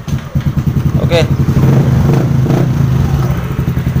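A Yamaha Aerox scooter with a fault code 12 engine problem cranks with a double starter and runs. Rapid, steady low engine pulses sound close and loud throughout, and someone speaks briefly at the start.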